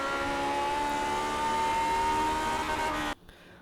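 The simulated engine of a Lotus 49 in the iRacing game holds a high, steady, buzzing note against the rev limiter for about three seconds, then cuts off abruptly into near silence.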